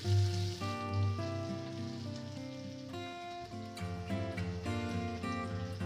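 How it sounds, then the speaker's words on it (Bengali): Onions, green chillies, ginger and garlic sizzle in hot oil for cooking pulao, a steady close frying hiss running throughout, with musical tones playing over it and no talk. "এবারে কাঁচামরিচ, পেঁয়াজ, আদা রসুন সবগুলোকে তেলে ভালোভাবে ভেজে নিতে হবে।"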